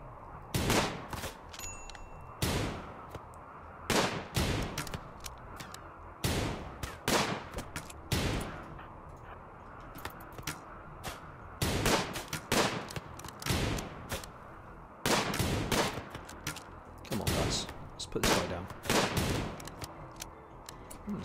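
Colonists in Rimworld trade gunfire in repeated sharp bursts of shots, some clustered in rapid volleys and others spaced apart, loud and close throughout with no talking.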